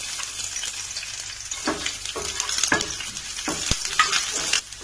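Curry leaves, dried chillies and garlic sizzle loudly in hot coconut oil for a chicken pepper fry. A steady hiss is broken by crackling bursts and stirring scrapes, with no talking.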